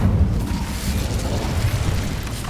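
An Incendio fire spell blasting in Hogwarts Legacy, a dense, continuous low rumbling roar that stays loud and steady throughout with no gaps.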